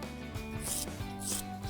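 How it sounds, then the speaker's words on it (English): A hand file shapes a builder gel nail extension to a soft oval in quick, steady back-and-forth rasping strokes, close and moderately loud. "File this to a nice soft oval."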